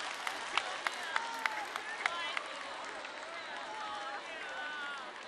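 A table tennis arena crowd at a women's singles match reacts with sustained applause and murmuring, a few sharp claps standing out near the start, while a commentator talks over it.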